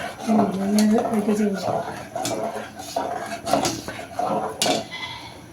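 A milk-based dessert is stirred in a pot with a metal spoon, making repeated scraping and clinking knocks against the pot, while people talk over it.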